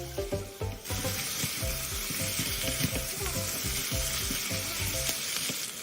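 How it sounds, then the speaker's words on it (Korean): Chicken tossed with fried soy sauce and garlic sizzles steadily in a hot pan, a dense close frying hiss with rhythmic stirring and tossing throughout. "볶은 간장과 마늘을 치킨과 버무리세요."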